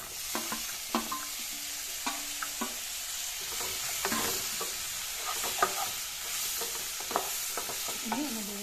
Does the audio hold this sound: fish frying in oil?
yes